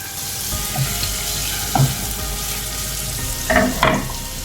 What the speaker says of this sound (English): Okay, the oil is hot enough. I'm going to add some chopped garlic, some chopped onions, finely chopped